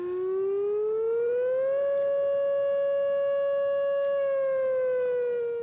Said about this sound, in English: The siren in Apex sounded for several minutes Friday afternoon.